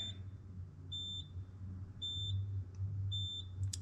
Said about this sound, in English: I don't like that beeper, it's annoying.